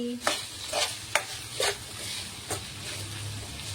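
Ivy gourds cook over a low flame in a pan on the stove for a roti chutney, with a faint sizzle beneath several sharp stirring scrapes spaced about half a second apart.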